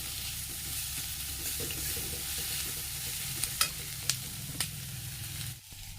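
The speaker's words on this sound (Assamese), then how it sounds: "অলপ এনেকৈ ভাজি ল'ম পিঁয়াজটো" Onions sizzle steadily in a hot pan, with a few sharp clinks of a utensil against the pan near the end.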